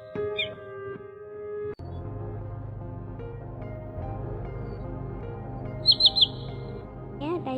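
Common greenshank calls ring out as short, bright repeated notes, a clear burst of three near the end, over a quiet background with a low musical drone.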